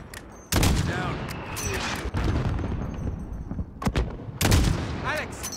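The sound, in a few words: gunfire in video game Call of Duty: Modern Warfare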